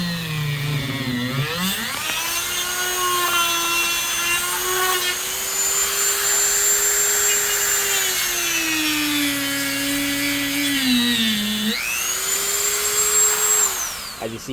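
A high-pitched rotary power tool whines continuously as it cuts around a side mirror mount on an Infiniti G37, its pitch dipping and rising under load, close and loud throughout with no talking.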